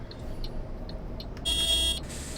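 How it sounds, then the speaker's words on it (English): A Volvo B9TL Gemini 2 London bus horn in OMSI 2 gives a short, fairly weak electronic beep, lasting about half a second over a steady engine hum and road noise. "a little beep there of the horn. It's not that strong."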